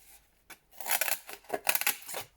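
Scissors cut through a piece of household cardboard box in a few close, quiet crunching snips that come in uneven bursts.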